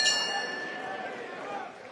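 A boxing ring bell clangs near the start of a professional fight, its bright metallic ring sustaining and fading over about two seconds against crowd murmur and an announcer's voice.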